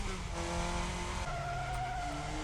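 A classic open-wheel race car in F1 Championship Edition spins out under braking, its engine droning while tires squeal and skid, loud and close with no talking.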